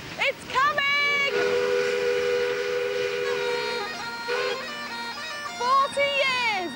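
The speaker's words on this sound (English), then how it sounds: "I can see the steam and I can hear it. It's coming!" A steam locomotive on a railtour draws near, sounding its whistle in long, loud harmonic blasts with shorter toots at the start and end, over rolling train noise; excited voices are heard around it.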